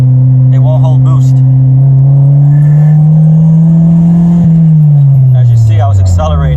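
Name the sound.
turbo D16 Honda Civic accelerating on a test drive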